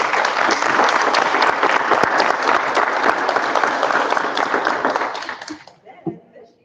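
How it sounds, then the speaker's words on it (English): Sustained audience applause at a school district board meeting, loud and dense, then tapering off abruptly near the end with a brief voice afterward. "Can we give them a round of applause?"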